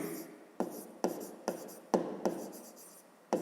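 Pen or marker writing out a fifth-grade math solution: about seven distinct strokes tap and scratch in a steady rhythm, close and fairly quiet, with no talking.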